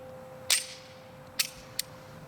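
Three sharp pistol shots from a Beretta 92FS fired at a range, one at the start and two closer together later, each crack loud and brief against a quiet background with no talk.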